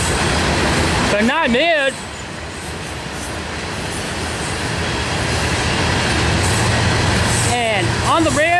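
A CSX southbound loaded coal train with a distributed power unit rolls past at Folkston, a loud continuous rumble and clatter of wagons with wavering wheel squeals, while a person speaks briefly.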